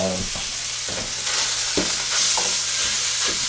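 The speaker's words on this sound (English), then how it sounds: "Fry the sausage, I do that first." Ground beef and sausage fry in a pan for a Tuscan spaghetti meat sauce, a loud, steady sizzle broken by several spatula scrapes and stirs at close range, with no talking.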